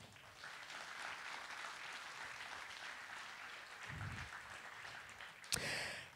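An audience claps steadily to welcome Dr. Luc Julia onto the stage at a talk on generative AI, the applause moderate and continuous throughout, ending in a sharper knock near the close.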